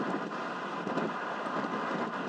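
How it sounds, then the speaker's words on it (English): Wind roars and buffets the microphone outdoors while cycling, a constant loud broadband rush with no break and no voice. "I don't really know if you can actually hear what I'm saying in this wind"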